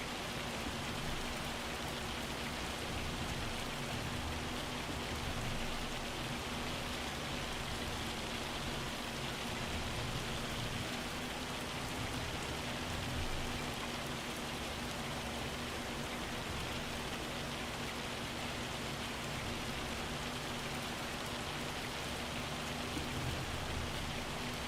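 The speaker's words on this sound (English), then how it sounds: "Just thinking about being in this tractor out in this field, taking care of the weeds while it's hailing out." Hail pelting a field in Farming Simulator 25 with a wide sprayer tractor working the crop, a steady dense patter of impacts like heavy rain that runs unbroken and even throughout.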